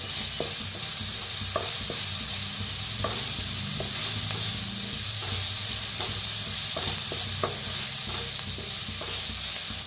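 Asafoetida roasting in a small amount of oil in a pan makes a continuous close sizzle. Intermittent scraping clicks from a spoon stirring recur every second or so, with no speech.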